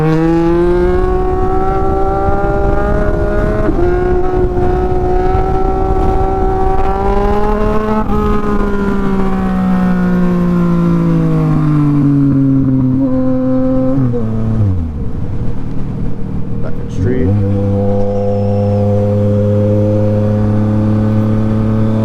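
A motorcycle engine revs hard and climbs through the gears during a wheelie, its loud, steady drone rising and falling in pitch with each shift, close and alone for about twenty seconds.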